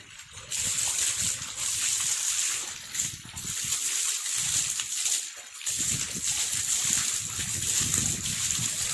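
Water from a motor pump's pipe pours and splashes into a village garden bed, a steady close gush with brief dips and slight trickling changes, no voices.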